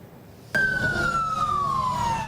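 Emergency vehicle siren at a large structural fire in Guayaquil's Guasmo Norte district before dawn, starting abruptly and holding a loud, slowly falling wail over low rumbling traffic and crowd noise.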